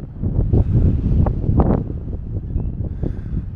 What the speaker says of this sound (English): That wind's picked up a bit too.